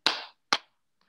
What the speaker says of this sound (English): You can pat your legs.